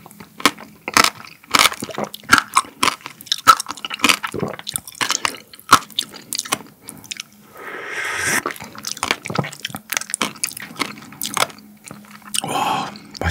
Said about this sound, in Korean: 근데 여기 이 씨앗이 아삭아삭하게 부담이 안 되네요